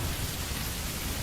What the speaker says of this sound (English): Outside, it begins to rain.